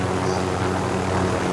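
Helicopter in Call of Duty Warzone, a loud, steady rotor and engine drone filling the short moment with no voices over it.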